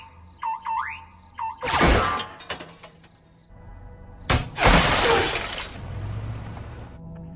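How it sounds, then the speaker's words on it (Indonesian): In a game, chirping car-alarm tones play first, then two heavy bursts ring out as a sniper's shots hit a car's hood, with loud crashing noise after each hit. "Namun cara itu belum berhasil setelah si sniper keburu menembak kap mesin mobilnya."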